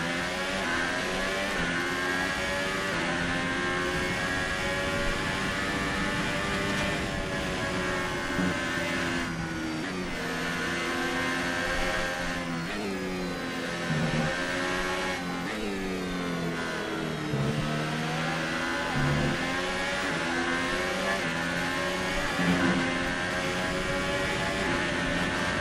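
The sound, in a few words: F1 race cars driving, Ferrari ahead, from video game F1 2018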